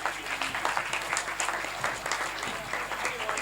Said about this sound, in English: Can we have a round of applause for all these 6 teams before we start?